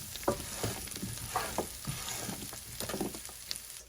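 Chopped fresh broccoli landing and being stirred in rendered fat in a hot pan, soft clattering tosses over a steady sizzle, close and without talk.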